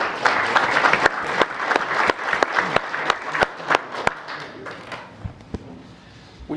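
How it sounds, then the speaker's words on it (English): Audience at a city council meeting applauds employees, a crowd clapping that thins out into a few scattered, sharp individual claps before fading. "just give them a round of applause"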